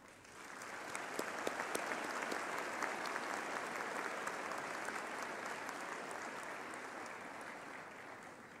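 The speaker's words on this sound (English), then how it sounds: "I ask the audience to applaud our graduates for their significant achievements" An audience at a university graduation ceremony applauds the graduates, with a sustained, even wash of many hands clapping that stays steady and fairly distant throughout.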